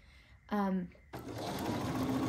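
Sewing machine stitching a strawberry garden quilt block: a short whirring burst, a pause, then steady continuous stitching, close and loud, with a voice heard briefly.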